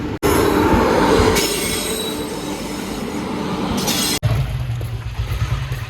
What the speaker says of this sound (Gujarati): તો ફાઇનલી મિત્રો ટ્રેન આવી ગઈ છે